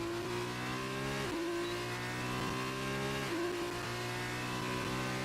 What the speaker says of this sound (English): As the first cars are now coming across the finish line.